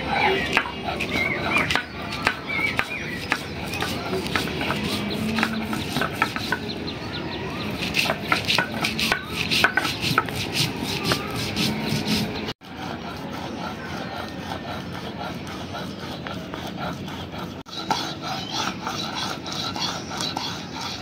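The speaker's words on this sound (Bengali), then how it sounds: "এখন এগুলো সবকিছু একত্রে বেটে একটা মশলা তৈরি করে নিই" Soaked mustard seeds, turmeric and black pepper are ground into a spice paste on a grinding stone, a steady rhythmic rasping and rubbing of stone strokes, close and continuous with brief pauses.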